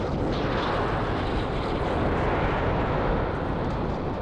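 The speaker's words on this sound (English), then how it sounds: "we have ignition." Rocket engines igniting at launch make a steady, dense roar that fills the whole clip at an even, moderate loudness, with no voices.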